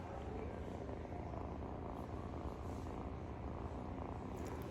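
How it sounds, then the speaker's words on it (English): Soft, close purring from a tiny kitten that cannot urinate, a steady low rumbling vibration that continues without pause, with no talking. "Y'all are gonna have to hear his purring."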